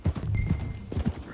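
Horse hooves clip-clop in Red Dead Redemption 2, a quick run of close, uneven thuds in a loping rhythm, with a faint snort or whinny mixed in.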